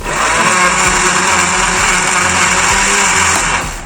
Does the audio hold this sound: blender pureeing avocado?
yes